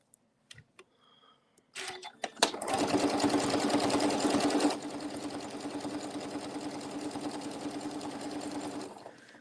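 A sewing machine stitching the top piece of an Easter placemat, starting after a few clicks into a fast, even, whirring run of stitches, close and loud, then continuing a little quieter at a steady pace.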